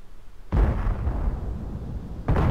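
Two heavy booming tank-cannon blasts sound in World of Tanks, a couple of seconds apart. Each hits hard with a deep rumbling decay, and a steady low battle drone fills the gap between them.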